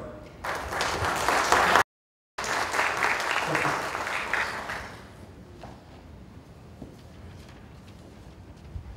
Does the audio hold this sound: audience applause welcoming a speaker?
yes